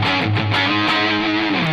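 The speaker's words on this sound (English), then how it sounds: "All right, here's distortion." Electric guitar played through a Positive Grid BIAS Distortion pedal, a loud, sustained, heavily distorted tone with sliding held notes and a few picked attacks, alone without talk.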